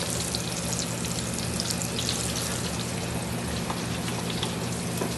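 Flour-dredged chicken pieces fry in hot oil for Jamaican fried chicken, a steady, dense sizzle and crackle of bubbling that stays even and unbroken throughout.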